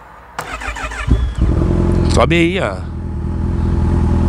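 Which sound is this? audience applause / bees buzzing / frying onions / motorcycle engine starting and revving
motorcycle engine starting and revving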